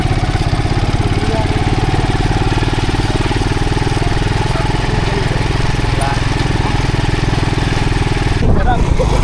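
Motorcycle engine idling close by, a loud steady putter with rapid rhythmic pulses that continues almost to the end, with a brief break near the finish.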